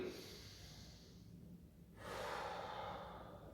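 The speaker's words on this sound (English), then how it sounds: "Nice, long, slow breaths in through the nose, out through the mouth." Slow, deliberate breathing: a long inhale through the nose, a brief pause, then a fuller exhale through the mouth, close and soft with no talking.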